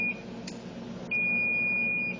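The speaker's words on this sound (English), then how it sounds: "It's beeping, so you have to get it out." A sustained electronic beep from an oven timer, a steady high tone that cuts out briefly and resumes, close and alone.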